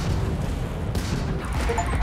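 Spaceship laser cannons fire during a space battle in the Starfield video game, producing dense, crashing bursts over a steady loud roar, with no talk.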